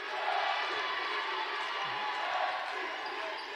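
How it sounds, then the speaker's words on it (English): Steady, dense crowd roar and cheering fill a girls' basketball game gym, with a pep band backing the home defense, continuous and loud throughout. "You hear the pep band cheering on the defense now."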